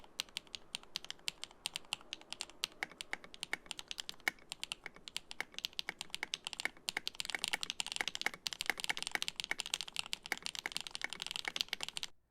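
Close, fairly quiet typing on a budget mechanical keyboard: a steady stream of crisp key clacks that grows denser and faster toward the end, with no talking.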